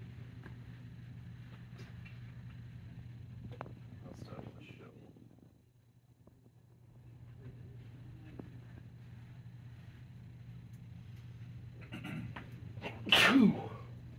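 A single sharp sneeze bursts out near the end, loud and close, over a steady low indoor hum with faint background talk earlier.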